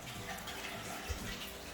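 Indoor water feature in a Cascade model show home of about 3,600 to 4,200 square feet, running as a steady, moderately loud wash of falling water with no talk over it.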